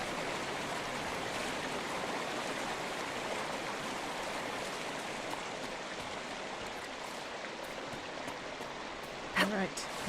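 A stream rushes continuously in Dragon Age Inquisition, a soft, even hiss of moving water at moderate distance, with a brief louder clatter near the end.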